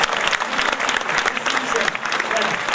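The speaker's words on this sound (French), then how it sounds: "Je vous demande de les applaudir, de les encourager." A cabaret-evening audience in Uzès applauds warmly with steady, dense clapping and a few voices mixed in, sustained at an even loudness throughout.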